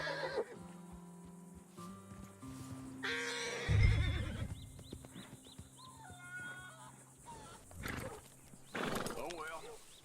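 Horses in the video game Red Dead Redemption 2 neigh and whinny over thudding hooves and a dog-like bark, with voices talking and a low musical drone underneath, the calls rising loud around the middle and end.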